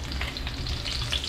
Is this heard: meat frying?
yes